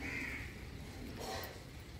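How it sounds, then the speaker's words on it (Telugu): Crows caw overhead while circling, in one short call that is moderately near, set against steady outdoor background noise. "చిలకల కోసం వస్తే కాకులు కనిపిస్తున్నాయి నాకు"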